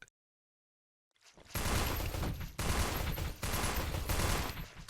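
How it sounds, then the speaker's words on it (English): Burst gunfire in the space station game Space Station 14: after a second of silence, loud sustained rapid shots fill the rest of the clip, with brief gaps between two or three dense volleys. "Joy's burst fire killing one of the first operatives to push through"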